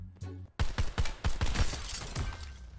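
A rapid string of about six punchy, evenly spaced gunshots from the video game Call of Duty rings out close and loud, followed by a ringing tail, after a short bit of game sound.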